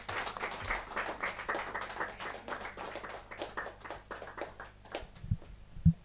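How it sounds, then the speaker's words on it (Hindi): Audience applause at a Hindi kavi sammelan poetry event, a steady run of many hand claps at moderate distance lasting several seconds, ending in a few louder, closer claps, with almost no talk. "जोरदार तालियों के साथ।"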